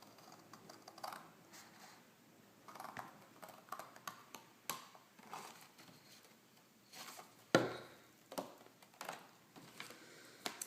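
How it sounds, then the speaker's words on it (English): Blade cutting card stock for A5 Filofax dividers, a quiet series of small scratchy clicks and snips with one sharper snap partway through, close and faint with no talking. "Then I'll flip this over and cut from the other side."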